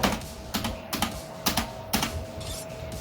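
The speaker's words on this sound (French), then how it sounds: "vous voyez mes doigts pour écrire sur le clavier" Keystrokes on a computer keyboard come in quick clustered bursts with short pauses between them, close and fairly clear over a steady faint hum, while someone plays a game.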